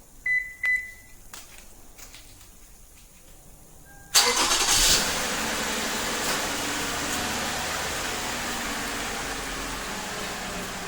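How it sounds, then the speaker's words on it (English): A few quiet beeps and clicks from a remote starter, then a 2007-2011 Toyota Camry engine cranks and catches, settling into a steady idle that runs on without talk. "We can start the vehicle."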